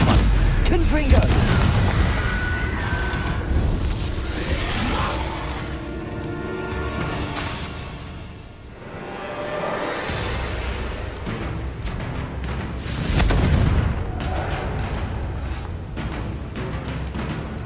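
Confringo fire spell blasts in the video game Hogwarts Legacy, a dense run of booming, crackling explosions amid busy combat noise, with louder bursts near the start and again toward the end.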